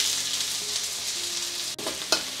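Onions dropped into hot oil in a pan for a couscous stir fry, with a loud, even hissing sizzle throughout and a couple of sharp knocks near the end.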